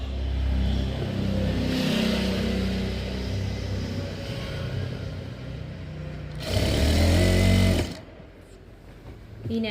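A sewing machine stitches the sleeve seam of a nightie, running in steady loud bursts with a brief pause and a louder faster run near the end, close up and without talk.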